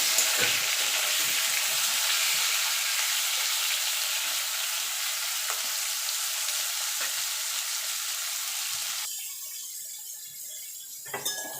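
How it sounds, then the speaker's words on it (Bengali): Potato and pointed gourd chunks sizzle and crackle in hot oil with whole cumin, a steady close frying hiss broken by occasional stirring clinks, easing slightly near the end. "এবার আলু পটলটা ভেজে নেব ভাজা ভাজা করে নেব একটু।"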